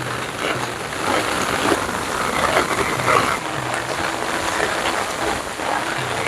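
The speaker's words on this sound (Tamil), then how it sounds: "பயங்கர மழை" Heavy rain pours down at a water villa resort, a dense, continuous wash of rain hitting surfaces with a low background rumble and no talking.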